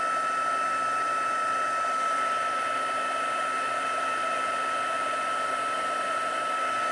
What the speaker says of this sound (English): And the hotter that the heat tool gets,